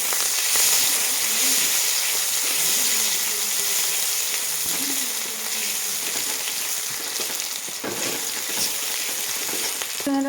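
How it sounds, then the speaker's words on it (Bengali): Chopped onion and green chilli sizzle and fry in oil in a wok, a loud, continuous crackling hiss with occasional stirring scrapes, close up and without talk. "পেঁয়াজটা ভাজা হয়ে গেছে"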